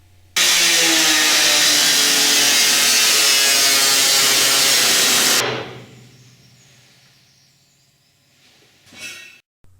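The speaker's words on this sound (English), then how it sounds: "he has to get the grinder out" An angle grinder cuts through the steel floor of an Austin Mini, a loud close continuous whine lasting about five seconds, then spinning down and fading to near silence with a brief clatter at the end.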